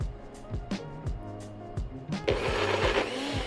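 A kitchen blender straining through a thick high-protein powder mixture, its motor pulsing in uneven bursts before settling into a loud, steady whir for the final second, with no talk over it.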